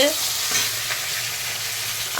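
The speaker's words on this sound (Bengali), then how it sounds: "আজকে ভোলা মাছ নিয়ে এসছে বড় সাইজের একটা আট পিস হয়েছে চার পিস ভাজা হয়ে গেছে আর এই চার পিসও হয়ে গেছে এখনই নামিয়ে নেব" Large pieces of Bhola fish fry in oil in a pan with a constant, close, loud sizzle and some faint stirring.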